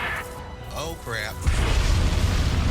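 A single loud bomb blast in a monster hunt bursts in midway as a deep, rumbling boom that lingers, following a few seconds of a person speaking.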